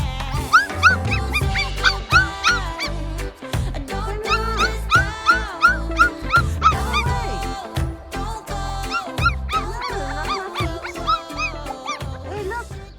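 Puppies on an off-grid homestead yip, whimper and bark in quick, overlapping bursts, loud and close, keeping up an excited stream of small cries throughout.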